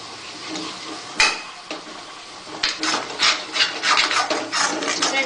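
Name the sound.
stirring and roasting potato halwa in a non-stick pan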